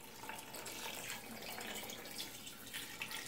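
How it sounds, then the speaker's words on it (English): Water pours steadily into a jar of vegetables, a soft, continuous running-water splash with faint gurgles, heard close and quiet for a few seconds. "So now I'm going to top this off with water, just enough so that the vegetables are covered."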